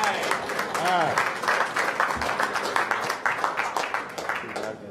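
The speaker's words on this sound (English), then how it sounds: "All right, give him a round of applause." A round of applause fills a Tucson city council meeting room, honoring a player with 12 shutouts this season; steady clapping runs throughout while voices talk over it.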